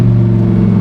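Audi R8 with an extremely loud aftermarket exhaust revving hard up close, a dense, continuous low roar with a strong steady engine tone filling the whole short moment.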